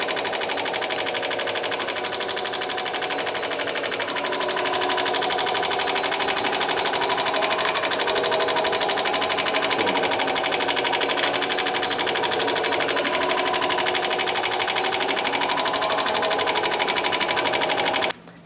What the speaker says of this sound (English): I'm just going to hit start, and we can watch the Spangle machine work